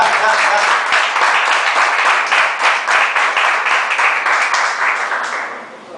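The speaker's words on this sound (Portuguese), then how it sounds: "Então dê uma salva de palmas para o Senhor" Congregation applause at a Sunday morning church service, steady dense clapping filling the room for several seconds before thinning out at the end.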